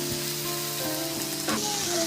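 Chingri shak curry, prawns with greens and melting tomato, simmering and sizzling in a pan, with a steady close hiss and faint clinks, and no talking.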